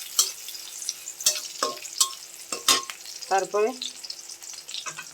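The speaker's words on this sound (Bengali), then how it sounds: "প্রথমত পেঁয়াজ আর রসুন কুচিটা দিয়ে একটু ভাজা ভাজা করে নেব।" Chopped onion and garlic sizzle in a pan while a spoon stirs with repeated sharp scraping strokes; a brief spoken word comes partway through.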